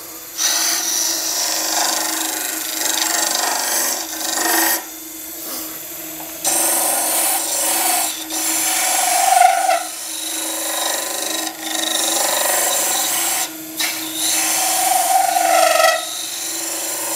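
Bursts of rasping, whirring rotary-tool sanding on a cast resin dragon's egg, recurring in steady passes of a few seconds each with brief pauses between, loud and close with no talking.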